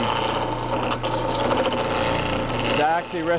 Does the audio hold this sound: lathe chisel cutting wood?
yes